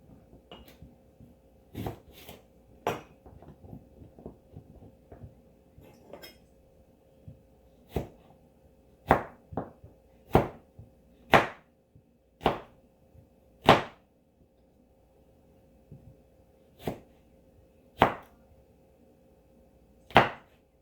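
A knife chopping an onion on a cutting board, sharp separate thuds spaced irregularly and then coming in a quicker run, close and fairly loud over a quiet room hum, no talk.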